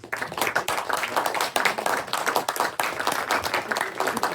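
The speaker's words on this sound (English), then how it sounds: "Let's give another round of applause for everyone who pitched today" Audience clapping at a game pitch day event, a dense patter of many hands sustained evenly throughout, fairly close and steady with no pause.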